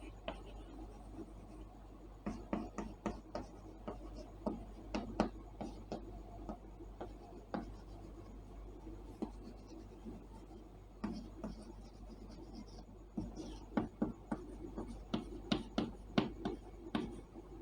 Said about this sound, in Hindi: चलो लिख ही देता हूँ